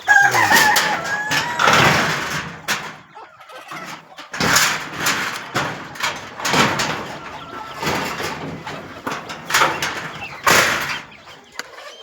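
Free-range chickens and roosters on a village poultry farm crow and cluck in repeated loud bursts, several birds overlapping close by with brief gaps between calls.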